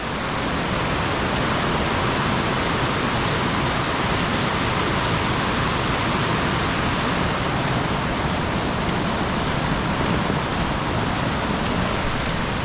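Flooded river in Konkan during heavy monsoon rain, water rushing loudly and steadily as a dense, continuous roar with no talk, close to the listener throughout.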